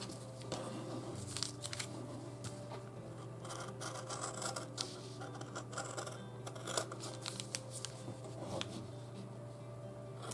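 Scissors snip through apron fabric on a table in quiet, close, irregular cuts and rustles over a low steady hum.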